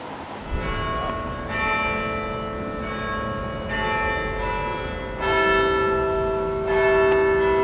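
Church bells ring out a clock chime near a village on a breezy day, several sustained, ringing strikes sounding in succession with long resonant overtones over soft wind noise, steady and fairly loud with no talking.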